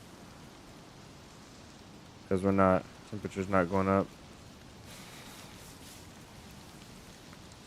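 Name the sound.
rain in the video game DayZ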